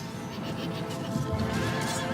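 Horses neighing and whinnying amid a cavalry clash in the medieval strategy game Medieval II: Total War, with lance charges and colliding mounts; a steady battle din with faint hoofbeats runs beneath, no talk.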